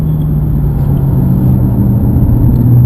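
Porsche sports car driving a lap of Circuit Paul Ricard in France, its engine a steady, loud, low droning rumble throughout with no break or rise.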